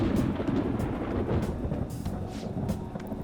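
Thunder in the video game Persona 5 rolls as a deep, steady rumble with rain-like hiss, continuous and fairly loud throughout with no talking.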